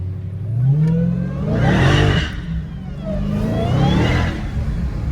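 A Dodge Challenger Hellcat Redeye, recently recovered after being stolen, revs its supercharged engine close by in a few rising bursts that climb and fall back to idle between them.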